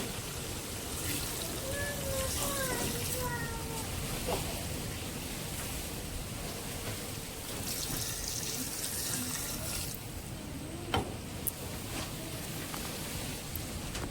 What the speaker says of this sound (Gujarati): આપણે આમાં પાણી એડ કરી દઈશું